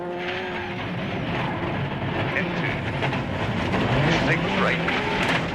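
Colin McRae's Ford Focus rally car running a stage of the 2002 Network Q Rally GB, its engine droning and shifting pitch at a distance beneath continuous commentary.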